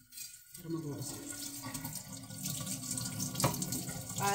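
Hands are washed under a running kitchen tap, with a steady close stream of water splashing into the sink after a brief quiet start, plus occasional faint clinks.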